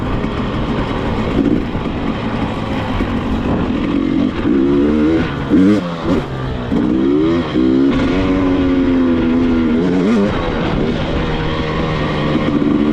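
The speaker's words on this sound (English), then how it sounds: "The bike sure definitely has a different peppiness over the sled." Dirt bike engine revving hard while snow biking, a loud continuous buzzing drone that rises and falls through repeated throttle blips, close to the rider with no talking.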